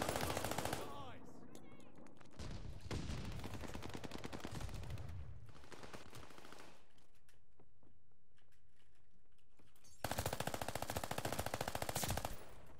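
Automatic fire from an Armaguerra 43 submachine gun in a competitive first-person shooter: rapid loud bursts at the start, a longer rattling stretch, a quiet lull, then another fast burst near the end.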